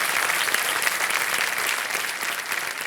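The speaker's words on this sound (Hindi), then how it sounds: "एक बार फिर तालियां बज जाए इनके लिए।" Steady, dense clapping from a studio audience on a Kaun Banega Crorepati game show set, loud and continuous throughout with no talk over it.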